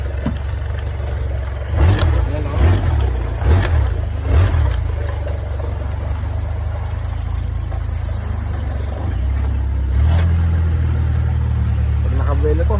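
A racing longtail boat on a Thai floating market canal, powered by a Toyota Fortuner car engine, idles with a deep steady drone and a few sharp revs early on, then settles and swells again while someone speaks over it.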